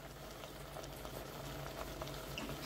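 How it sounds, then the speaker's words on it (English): Banku mix cooking on low heat in a pot, a steady, quiet bubbling and soft simmer with faint crackles, continuous and close, with nobody speaking. "So our Banku has been cooking for about close to 5 minutes on a low heat"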